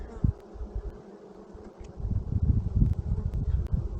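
Honey bees hum at a hive box in a continuous low drone that swells and pulses up close, with faint rustling in the background and no talking.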